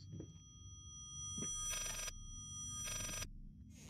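An old-fashioned telephone bell rings in the horror game Layers of Fear, two bursts of metallic ringing over a low, rumbling ambient drone, with no voices.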